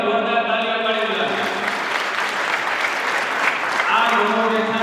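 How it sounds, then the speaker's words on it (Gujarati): An audience at a school campus celebration applauds loudly, a dense burst of clapping that swells and holds, with sustained musical tones playing underneath and around it. "એકવાર જોરદાર તાળીઓ પાડી દો."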